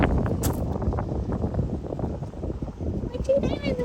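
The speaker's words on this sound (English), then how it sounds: "It's a little windy." A steady wind rushes and buffets outdoors beside a tiny house on a cold winter day with snow still lying in the shade, a continuous broad roar that never lets up.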